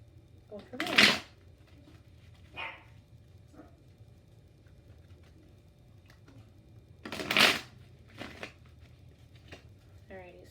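Tarot cards are shuffled in two bursts, each a loud riffle followed by softer taps of the deck, close and quiet around them, with brief talk in between.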